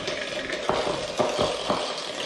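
Electric mixer whirring steadily as butter is blended until fluffy for a Victoria sponge cake, a continuous buzzy hum with a few soft knocks of the beaters against the bowl.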